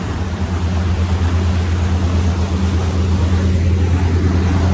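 A boat engine powering up: a steady, loud drone with a deep low hum, running continuously under power with constant rushing water noise.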